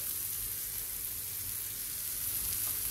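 Chopped tomatoes with a little turmeric sauté in a pan for paneer bhurji, giving a steady, soft sizzle that runs unbroken on its own with no voices.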